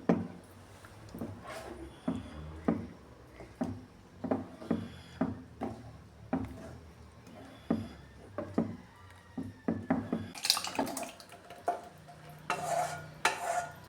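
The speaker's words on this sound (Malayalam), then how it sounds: "ഇനി ഇതെല്ലാം കൂടെ നന്നായിട്ടൊന്ന് മിക്സ് ചെയ്ത് കൊടുക്കാമേ." Pazham pulissery, a ripe banana and yogurt curry, is mixed in a pot, with repeated close scraping and knocking strokes of a spoon against the pot and a faint simmer beneath, getting quicker toward the end.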